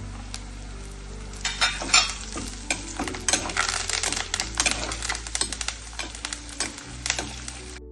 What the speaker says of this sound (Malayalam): കറിവേപ്പിലയും കൂടി ഇടുക.